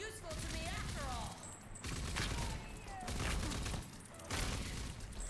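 Bursts of gunfire in the Rage 2 shooter game ring out in several separate volleys, loud and close, mixed with game sound effects.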